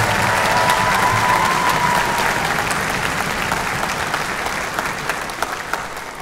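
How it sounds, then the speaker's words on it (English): An audience at the 2022 Lincoln-Way Rock Orchestra school concert gives dense, sustained applause that slowly tapers off, with a few sharper claps and a faint whistle standing out near the start. "Give them all a round of applause."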